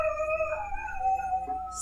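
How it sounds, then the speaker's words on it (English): A pet dog howls indoors in a long, sustained, wavering wail that rises and falls in pitch, loud and close, with no talk over it. "That's my dog."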